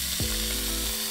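Short rib searing in a hot pan gives a loud, steady sizzle that holds unbroken from start to finish, with no voices over it.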